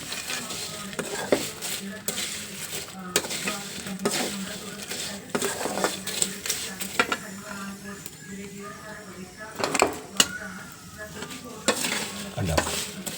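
Sizzling fried tempering is poured into a dish, heard as bursts of crackling sizzle and stirring scrapes with clinks of a pan, repeating irregularly at close range while a person talks throughout.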